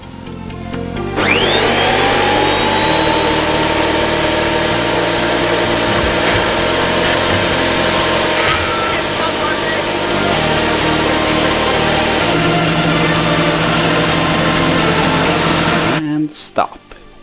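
A Metabo DH330 electric planer spins up sharply and runs at a steady loud whine for about fifteen seconds before cutting off.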